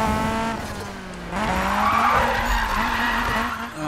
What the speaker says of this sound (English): I'll use the handbrake now for this.